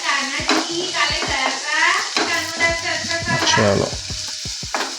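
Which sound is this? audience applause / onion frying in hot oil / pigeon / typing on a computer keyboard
onion frying in hot oil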